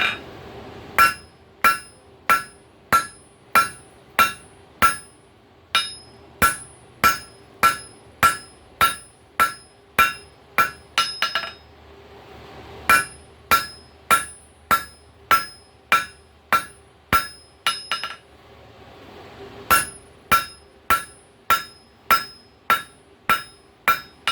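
Hammer forging hot coil spring steel into a cold chisel: rapid rhythmic series of ringing metallic blows, loud and close, in bursts of about a dozen strikes separated by brief pauses.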